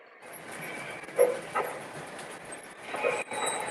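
Four model train locomotives coupled together run on a layout, a faint rolling rumble with a few brief clicks and knocks, and a dog barking nearby.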